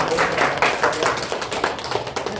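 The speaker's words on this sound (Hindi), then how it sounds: "ताली बजा" Hands clapping in a steady, fairly quick rhythm at a yoga session, several close, sharp claps repeating throughout with little talk.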